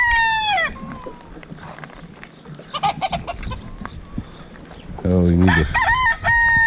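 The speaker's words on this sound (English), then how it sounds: "He's one of our Icelandic roosters" Icelandic rooster on a small farm crowing loudly at the start and again near the end, with clucks and other fowl calls scattered between. Someone speaks briefly.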